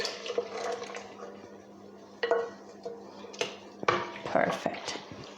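A spoon scrapes and knocks against a pot of Turkish rice pudding with boiling milk in irregular strokes, with soft liquid sloshing and a low steady hum behind it.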